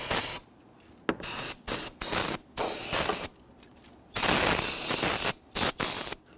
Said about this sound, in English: we're now simply going to take a spray solvent and just clean down our pulleys and the front portion of the engine